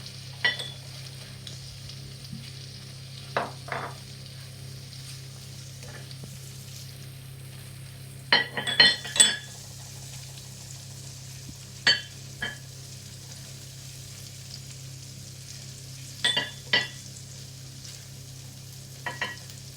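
Chicken frying in a pan with Nando's-style seasoning, the heat just turned down: a low steady sizzle underneath, broken by occasional brief scrapes and clinks of stirring, with no one talking.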